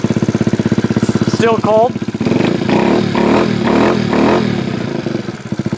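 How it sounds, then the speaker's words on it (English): Fuel-injected Honda Ruckus scooter engine cold-starting with a push-button starter, then idling rough and revving up in several rising bursts, close and loud, with a brief spoken comment at the start. "So this is what to expect out of the fuel injection system on a cold start."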